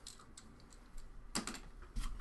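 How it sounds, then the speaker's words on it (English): Someone types on a computer keyboard, producing quiet, scattered clicks that bunch into a brisk flurry near the middle and a couple of firmer keystrokes at the end, close and alone. "Take out my keyboard."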